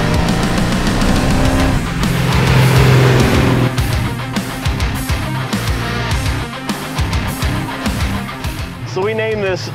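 A supercharged 1972 Pontiac GTO with a Procharger rumbles and revs while driving, with people talking over the motor noise throughout.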